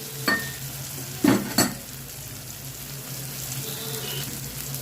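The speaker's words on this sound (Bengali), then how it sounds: "আমি এবারে এর মধ্যে দিয়ে দেবো ফেটিয়ে রাখা টক দই" Whisked sour yogurt hits a frying spice masala for a Bengali doi katla fish curry, giving a few sharp stirring and scraping bursts near the start, then a low, steady sizzle alone with no talk.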